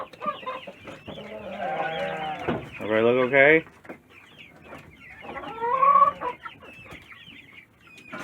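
Backyard chickens cluck and squawk loudly in bursts at close range, mixed with someone speaking to them between the calls.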